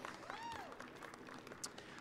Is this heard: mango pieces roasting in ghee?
no